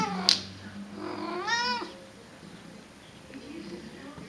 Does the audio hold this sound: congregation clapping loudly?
no